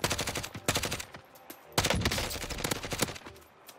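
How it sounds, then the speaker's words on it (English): Rapid bursts of automatic gunfire from the video game Warzone, two loud clusters of shots with sustained rattling between them, close and dominant with no voices. "What I'm doing is I'm trying to shoot just any part of his body that I can."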